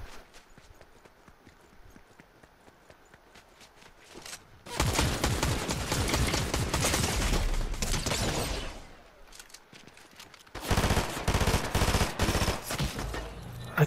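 Video-game gunfire in two loud, dense bursts of rapid shots separated by quieter gaps, over a low background of game ambience.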